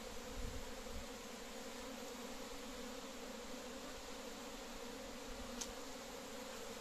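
A dense, continuous buzzing of many honeybees close by at an open hive being inspected, steady and unbroken throughout.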